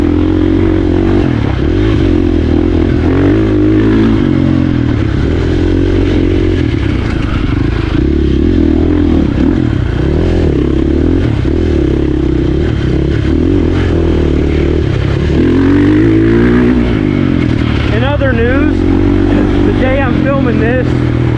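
Dirtbike engine revving and rising and falling in pitch during a ride, loud and close throughout with clattering chassis noise.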